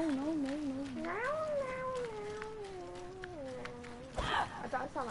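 A man imitates a cat with long, wavering meows while playing Resident Evil Revelations 2, the drawn-out voiced calls rising and falling over faint game ambience, ending in a brief louder burst of noise.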